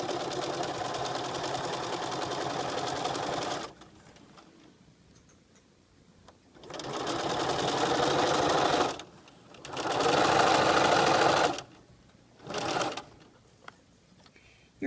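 A sewing machine stitches an invisible zipper in several bursts, running steadily for a few seconds at a time, with quiet pauses between stops and a short final run.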